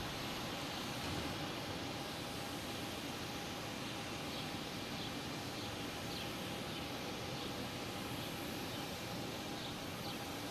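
A JetBlue Airbus A320 arriving from San Juan at Boston Logan Airport in the evening, heard as a steady, broad jet roar that stays constant and distant throughout with no other clear sounds.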